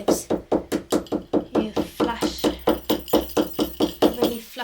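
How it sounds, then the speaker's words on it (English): A hammer taps cardboard flat against an upholstered piece in a steady, rapid series of about twenty close, sharp knocks, evenly spaced with no pause. "It's just hammering the cardboard down if it's lifted anywhere, or just gives it an even finish."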